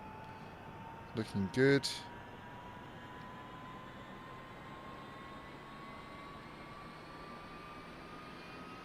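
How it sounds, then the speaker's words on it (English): Helicopter rotor spinning up in the DCS World flight sim, a steady droning engine and rotor hum running throughout with rising tone, while a voice speaks briefly near the start. "The helicopter will toss you around quite a bit as the rotor spins up."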